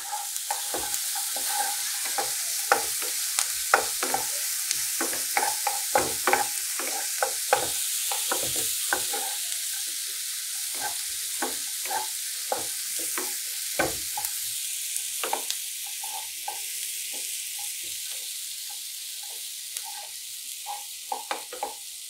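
Onions stir-fried with other ingredients in a pan, a constant sizzle broken by frequent sharp scrapes and taps of a spoon against the pan, close and steady throughout with no voices.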